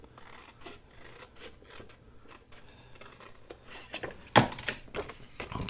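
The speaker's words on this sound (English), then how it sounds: "So I'm just cutting from one side to the other, following that little line." Scissors snip through paper along a guide line while a journal pocket is made, with a soft, close rhythm of small cuts building to one sharper, louder cut near the end.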